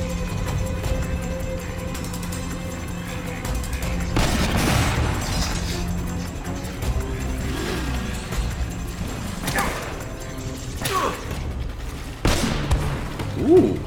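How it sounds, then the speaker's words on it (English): Shotgun fire in the video game Uncharted: a few heavy booming blasts with crashing debris over a steady bed of game music and mechanical noise, fairly loud and close. "I thought that was a shotgun"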